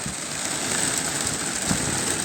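Heavy rain pours down on a mountain as a dense, even hiss and patter with no breaks, loud and close throughout.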